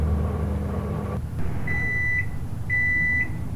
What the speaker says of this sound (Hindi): okay, microwave